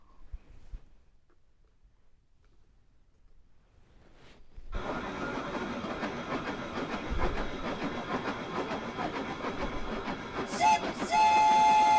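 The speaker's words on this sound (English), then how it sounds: "I hear that train a-coming." Train rolling past, rising from near silence to a loud, sustained rumble and rattle of rail cars, with a sustained whistle tone sounding near the end.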